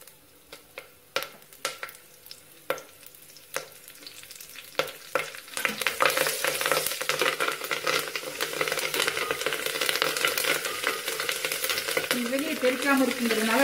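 Curry leaves and a bay leaf hit hot oil for a homestyle country chicken curry. Scattered pops and crackles build into a loud, continuous sizzle, with stirring toward the end.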